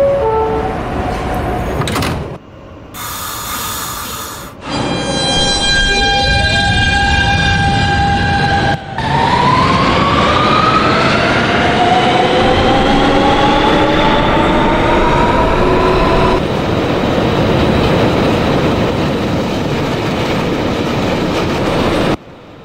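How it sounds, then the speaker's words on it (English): An NYCT R160B Siemens subway car on the F express, Queensbound, in the OpenBVE train simulator, hums and whines loudly with rising and falling motor tones, rail rumble and a brief door chime, steady throughout. "Queensbound F Express train."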